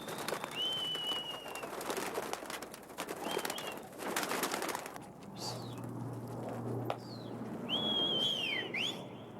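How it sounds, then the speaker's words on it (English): Pigeons on a New York City rooftop on 135th Street in Manhattan, with repeated bird whistles and calls, some near and some farther off, over a steady outdoor hum and a brief low drone partway through. "This is my pride and joy, flying pigeons on 135th Street,"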